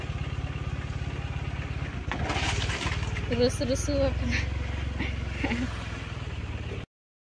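A motorcycle engine runs with a steady low rumble throughout while people talk over it, and the sound cuts off abruptly near the end.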